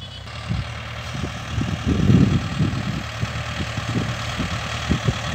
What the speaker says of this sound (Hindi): ये देखो भाई, शानदार चल रहा है एकदम ट्रैक्टर